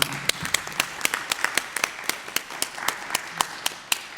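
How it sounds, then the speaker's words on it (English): Sparse, scattered handclaps from an audience applauding a panel of speakers at an evening community event on African immigration, individual claps sounding close and distinct at an uneven rhythm. "Let's give our panelists a round of applause, please."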